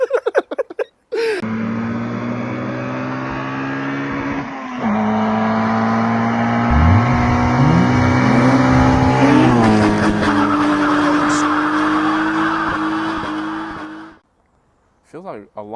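A loud, raw K-swapped Honda Civic engine with no exhaust idles harshly, then revs higher and holds a rising roar before cutting off abruptly.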